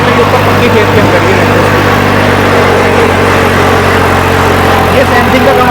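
A tractor engine drones loud and steady as it pulls a cultivator through firm field soil, with a constant broadband roar and low rumble that holds throughout.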